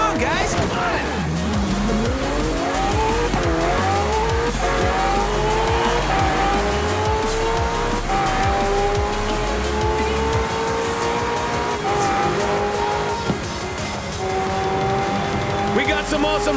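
Race cars and racing trucks in the Forza Horizon 4 video game roar past in a street race, loud engines rising through gear changes with repeated tire squeals and skids, an announcer's voice talking over the action.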